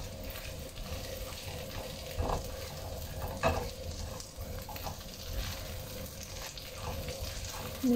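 Chicken wings fry and sizzle in butter in a pan for a honey garlic recipe, a constant close crackle with occasional stirring clatter.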